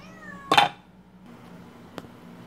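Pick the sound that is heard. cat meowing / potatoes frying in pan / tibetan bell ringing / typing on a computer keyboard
cat meowing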